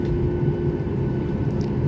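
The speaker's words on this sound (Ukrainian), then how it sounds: "зараз ми у літаку" Steady, loud low-pitched roar of an airliner cabin in flight, a constant engine and air rumble with a faint hum on top, no talking.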